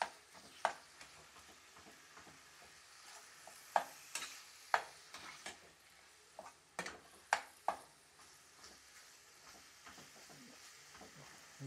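Filipino sauce for stuffed squid, made with ground meat, sautés in a pan with a quiet sizzle. Sharp clicks and scrapes of stirring sound on and off throughout, close and moderately loud, with no talking.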